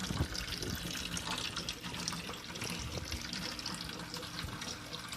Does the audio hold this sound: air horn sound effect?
no